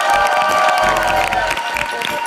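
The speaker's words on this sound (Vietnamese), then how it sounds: "nghe ở đây hò reo cổ vũ kinh khủng khiếp" A TV game show studio audience cheers, shouts and claps loudly, a dense burst of excited voices and applause that fades a little toward the end.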